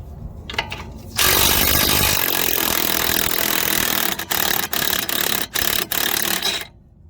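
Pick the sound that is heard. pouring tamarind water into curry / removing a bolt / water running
removing a bolt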